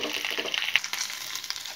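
Hot oil with fried ingredients poured into mutton for Hyderabadi mutton haleem, a bright crackling sizzle with scattered pops and splutters, close and fairly loud.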